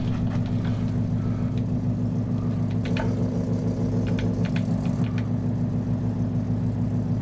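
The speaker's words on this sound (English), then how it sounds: "this mean idle. These muscle cars sound so cool." A deep, rumbling Ford Mustang Mach 1 muscle car engine in Gran Turismo idles steadily and loudly, a low throaty drone with faint clicks above it and no speech.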